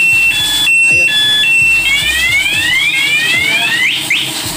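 An aftermarket alarm on a Yamaha motorcycle sounds loud and close, starting with steady two-tone beeps and then moving to rapid rising electronic sweeps, with someone talking and faint background noise under it.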